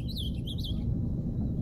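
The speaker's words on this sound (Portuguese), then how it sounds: "Olha o azulão." An ultramarine grosbeak (azulão) sings a short run of whistled chirps for under a second, fairly faint against steady low background rumble on a town street.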